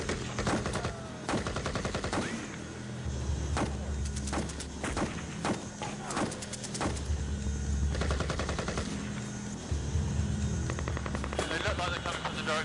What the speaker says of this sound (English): Gunshots going off outside.